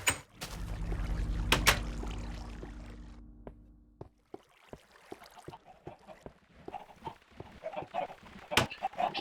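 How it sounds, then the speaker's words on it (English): Minecraft chickens cluck softly in an underwater farm, scattered short clucks spread across the clip alongside running and pouring water that swells early on and then fades, the whole scene faint and game-like. "There's chickens in here"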